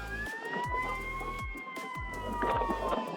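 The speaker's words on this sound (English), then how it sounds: "Silver City sirens." Emergency vehicle sirens wail through Silver City, New Mexico, on a cold snowy day, with long steady tones sliding gently in pitch over a low rumbling background.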